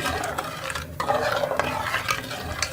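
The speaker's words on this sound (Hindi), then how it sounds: "इसको हम अच्छी तरह से चीनी को मिक्स कर लेंगे इसके अंदर।" A spoon stirs sugar into bread kheer in a cooking pot, giving continuous scraping and swishing with a few clinks against the metal and a soft bubbling underneath, close and fairly loud.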